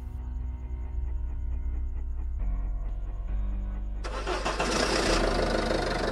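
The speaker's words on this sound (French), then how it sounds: "je vais aller essayer de démarrer le Bobcat" A Bobcat engine in Farming Simulator 15 cranks and catches, settling into a steady mechanical drone before rising into a louder, harsher run, all close and continuous with no talk.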